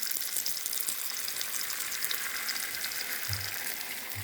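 Beaten eggs frying in a hot pan, with a continuous close, hissing sizzle that holds steady throughout and no talking.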